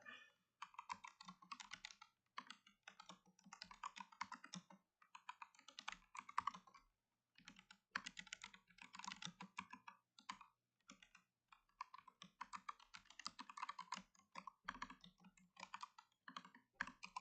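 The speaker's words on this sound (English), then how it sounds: "Let's go ahead and continue this typing." Steady bursts of typing on a computer keyboard, close and clicky, with brief pauses between runs of keystrokes and no talk.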